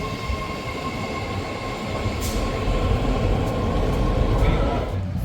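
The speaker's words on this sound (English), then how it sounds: "Let's go get onto San Francisco subway since we just rode New York subways" A San Francisco BART subway train running on underground track, a loud rumbling roar with steady metallic rail whine and faint squeals, building slightly in intensity over several seconds as the car rolls along.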